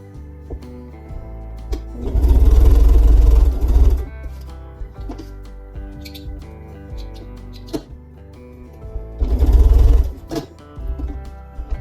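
A sewing machine runs in two bursts while stitching small four-patch quilt pieces together for a scrappy quilt star block, each burst a steady mechanical whir of about two seconds, with quieter handling sounds in between.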